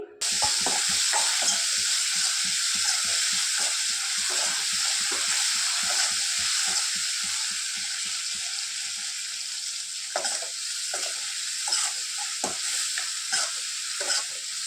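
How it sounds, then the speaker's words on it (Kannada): Onions, garlic, mustard seeds and curry leaves frying in oil, a loud continuous sizzle with rapid rhythmic stirring scrapes early on and scattered clinks later. "ಎಲ್ಲ ಇಂಗ್ರೀಡಿಯೆಂಟ್ಸ್ನು ಕೂಡ ಸ್ವಲ್ಪ ಫ್ರೈ ಮಾಡ್ಕೊಳ್ಳೋಣ ಎಣ್ಣೆಲಿ."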